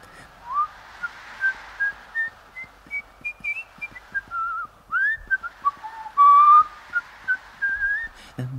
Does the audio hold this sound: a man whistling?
yes